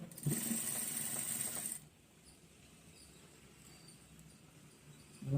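A sewing machine stitching a pant belt pocket: a loud, fast mechanical whir for under two seconds, then stopping and leaving quiet room noise with a brief restart at the end.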